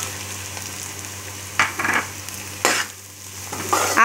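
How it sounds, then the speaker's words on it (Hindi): Onion frying with carrot and green chili added to the pan, a soft constant sizzle broken by louder bursts of stirring and ingredients dropping in, close up and without talk. "हमारा ऑनियन अच्छी तरीके से फ्राई हो गया, अब हम इसमें कैरेट ऐड करेंगे और ग्रीन चिली।"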